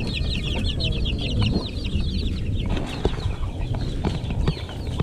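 Shamo chickens, including month-old chicks, cluck and peep in quick repeated calls close by, over steady low background noise in a yard.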